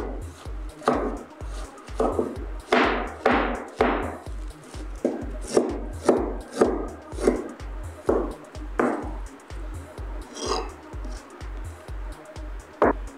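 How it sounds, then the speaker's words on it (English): Knife chopping cabbage into tiny bits on a board for spring roll filling, a steady run of sharp, close rhythmic chops with short pauses between bursts. "make sure you cut all the vegetables in tiny bits, all of them"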